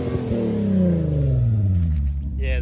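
A Volkswagen Golf R32 fitted with a swapped-in 3.6-litre R36 engine and a 3-inch exhaust with two silencers revs hard. It is loud and close, with a deep rumble and a rising then falling engine note, and voices can be heard over it.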